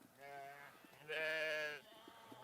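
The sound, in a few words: sheep bleating on a ranch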